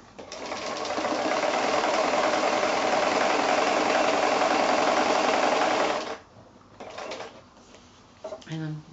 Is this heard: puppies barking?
no